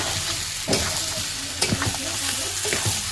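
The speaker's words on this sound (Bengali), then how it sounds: "এবার আলুগুলো এর মধ্যে তুলে দিয়ে একটু ভালোভাবে নেড়ে নিচ্ছি।" Potatoes are stirred into chicken curry frying in a pot over a wood-fired clay stove, with a continuous sizzle and several sharp scraping knocks from the spoon.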